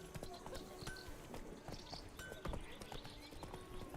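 Steady clip-clop of horse hooves at a trotting pace in The Witcher 3: Blood and Wine, close and continuous, with occasional background game sounds and faint voice.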